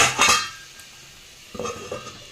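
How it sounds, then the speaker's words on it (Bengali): A lid clanks onto a cooking pot of meat curry (giblet curry), two quick metallic knocks followed after a pause by softer rattles as it settles, close and alone. "এবার আমি এটাকে ঢাকা দিয়ে দেবো।"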